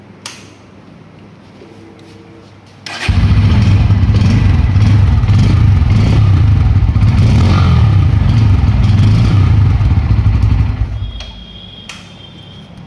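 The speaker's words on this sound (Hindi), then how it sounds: "इस बाइक के अंदर आपको मिलता है अंडर बेली एग्जॉस्ट, एक बार आपको इसकी हम आवाज़ सुना देते हैं।" A Bajaj Pulsar N160 motorcycle with an underbelly exhaust is revved hard. After a quiet idle, a sudden loud, deep, bassy roar holds for about eight seconds, then drops back to a low idle.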